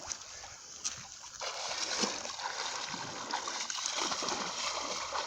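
A person jumps into the water of a flooded quarry, making a sudden loud splash followed by sustained sloshing and churning that stays close and fairly strong to the end.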